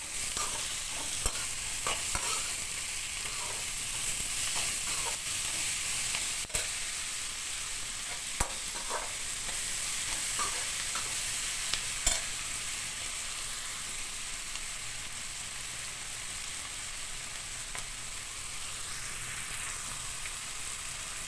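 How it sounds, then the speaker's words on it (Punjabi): Onions browning in oil with salt added, a constant soft sizzle punctuated by repeated scraping and clicking as a spatula stirs the pan, with no talk. "ਹੁਣ ਪਿਆਜ਼ ਬਰਾਊਨ ਹੋਣ ਲੱਗ ਗਿਆ"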